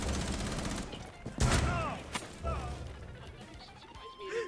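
Gunfire from Rainbow Six Siege, bursts of shots layered over game noise and in-game voices, with a sharp loud crack near the middle and dense clutter around it.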